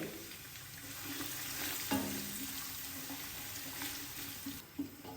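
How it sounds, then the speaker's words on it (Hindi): Onions fry in oil for chicken pulao with a steady, quiet sizzle, broken by a couple of faint stirring knocks against the pot. "प्याज को लाइट ब्राउन होने तक हम अच्छे से कर लेंगे फ्राई।"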